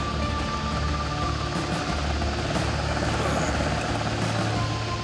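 A Coast Guard helicopter at a rescue scene in Alaska, its loud, steady rotor and engine roar running close and continuous throughout without a break.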